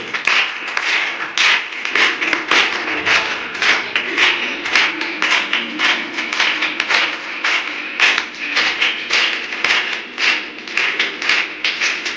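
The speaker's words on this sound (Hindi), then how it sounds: "बड़ी जोर से अपने लिए ताली बजाओ" An audience of blind women at a devotional program claps in steady rhythmic unison, with sharp, evenly spaced beats close and loud throughout, and a faint singing or talking murmur underneath.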